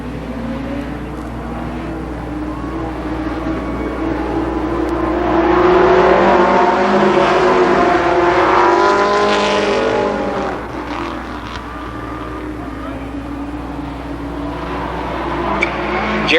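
Race cars in an 8-lap Limited Sportsman heat race at Columbus Motor Speedway, 1992, engines roaring and rising in pitch as the pack accelerates and sweeps past, then fading into a steady distant drone.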